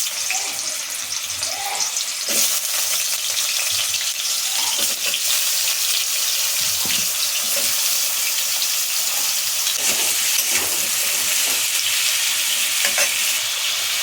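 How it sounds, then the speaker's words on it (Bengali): Pumpkin pieces fry in hot oil in a home kitchen pan, giving a steady, close, broadband sizzle that runs the whole time with occasional stir clatters and no talking. "তেল গরম হয়েছে, এবার মিষ্টি কুমড়াটা ছেড়ে দিচ্ছি।"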